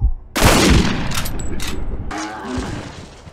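A sharp, loud rifle shot rings out in the hunting video game Cabela's Dangerous Hunts 2013, followed by a booming echoing tail and further bursts of gunfire, with a voice speaking in between.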